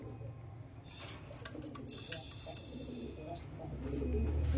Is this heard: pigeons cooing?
yes